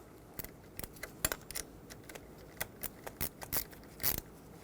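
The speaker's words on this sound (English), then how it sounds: "Let's put the positive terminal back on the battery." Positive battery terminal clamp being tightened on a Ford Excursion: sharp, irregular metallic clicks and taps from the tool against the clamp, close by and fairly quiet, with no voices.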